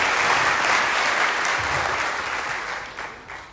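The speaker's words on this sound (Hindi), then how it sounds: "जोरदार तालियां मुझे।" Loud, sustained applause from a large audience at a live motivational event, a thick continuous clatter of clapping that slowly tapers toward the end, a faint voice briefly audible beneath it.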